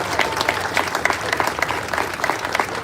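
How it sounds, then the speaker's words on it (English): Applause at the 2025 Memorial Day parade in Washington DC, a steady crowd clapping, dense and sustained across the whole moment with sharp individual claps standing out. "A round of applause for the people that put this parade together."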